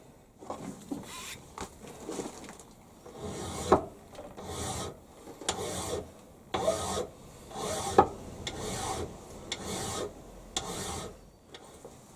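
Metal being worked with a hand file, heard as rhythmic rasping strokes back and forth at close range, with irregular pauses between the passes.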